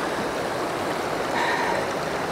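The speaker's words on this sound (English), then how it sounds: "I'm pointing directly into the subject that I'm shooting, which is a waterfall." A small waterfall, more a modest water cascade, pours steadily at a rough outdoor spot, its constant rushing and splashing filling the short stretch at an even level with no voices.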